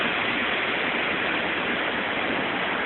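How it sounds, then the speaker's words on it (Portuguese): A waterfall on a trail near Taquaruçu, Palmas, gives a steady, dense rushing hiss, constant and fairly loud with no other sounds. "Olha lá tá a cachoeira."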